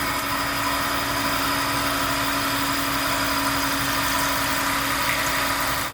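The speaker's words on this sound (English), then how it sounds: "This is the final cut with the coolant." A diamond-cut lathe takes the final finishing cut on an alloy wheel rim with coolant flowing, a steady machine hum with constant high whine and low drone, close and unbroken for the whole stretch.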